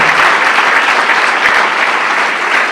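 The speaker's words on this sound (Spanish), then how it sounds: "Den un aplauso al Señor, amén." A church congregation claps steadily and continuously, a dense wash of applause that holds at a fairly even loudness throughout, with no voices over it.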